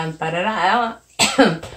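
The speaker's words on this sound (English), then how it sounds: "I keep coughing." A short voiced sound followed by a sharp, harsh cough burst, close and loud.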